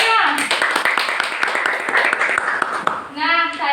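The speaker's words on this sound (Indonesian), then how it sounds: "Beri tepuk tangannya." Classroom applause during a micro-teaching lesson, a few seconds of brisk clapping from a group of students, with voices talking over it near the start and end.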